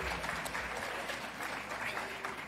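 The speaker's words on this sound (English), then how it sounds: "if you could at least clap and let us know that you're out there" Audience at a nursing school baccalaureate graduation ceremony breaks into sustained clapping, a dense, even wash of many hands filling the hall at moderate distance, steady for the whole stretch.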